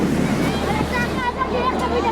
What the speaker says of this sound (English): The waves are crashing in to the beach.